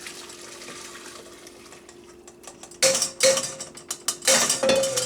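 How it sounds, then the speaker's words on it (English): Cooked vegetables and water poured from a pot into another pot while making Amish egg noodles, a splashing pour starting partway through and continuing in close bursts after a quieter stretch. "They look like they ought to be about ready, and I'm going to start pouring them in here first."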